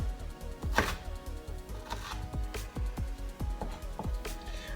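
A knife chops a jalapeno into tiny squares for mango salsa on a cutting board, with a dozen or so crisp, close knocks in a fairly even rhythm and no talking.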